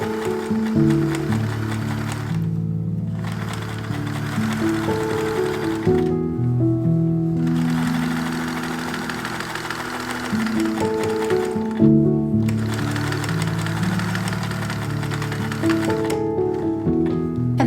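A sewing machine stitches closed the side seam openings of a thrifted fall skirt in several bursts of steady mechanical whirring, each lasting a few seconds with short pauses between runs.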